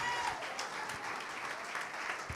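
A church congregation claps together in steady, dense applause during a worship service, the sound fairly distant and soft, with a faint voice over it.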